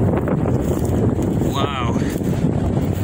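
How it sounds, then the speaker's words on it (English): Violent wind gusts of about 70 mph buffet a tent beside rising water, a loud, constant roar of rushing air with a brief whistling surge partway through. "a huge gust hit the tent."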